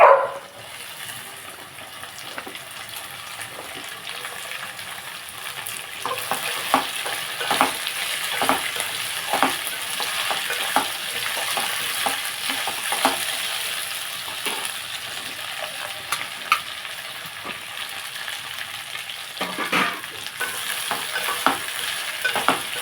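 Chopped okra frying in a pan, a sustained sizzle and crackle with frequent spatula scrapes and stirring knocks, close and fairly loud, with no speech.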